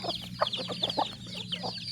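A flock of crossbred native and fighting-cock chickens clucks and chatters nearby at evening feeding time on paddy rice, a rapid run of short overlapping calls with soft peeps between.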